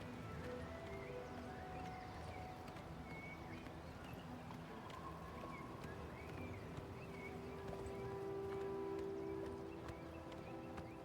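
Horse hooves clip-clop steadily in a video game, a continuous mid-level clatter beneath ambient wind, birds and a drawn-out tonal hum.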